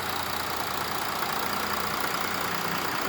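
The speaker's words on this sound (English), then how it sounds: "Isn't that wonderful diesel rumble?" A 2013 Mercedes-Benz 3-liter diesel engine idles with a steady, even rumble and broad mechanical noise, with no breaks or revving.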